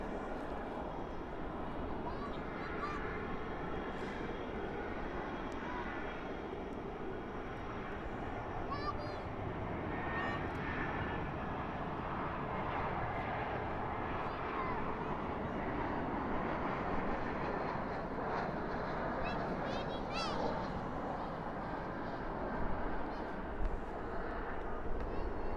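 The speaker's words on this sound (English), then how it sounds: "There's that Airbus A380." Engines of an Airbus A380 roar steadily at Dallas/Fort Worth airport at night, a broad continuous rumble and whine that holds level and swells slightly toward the end.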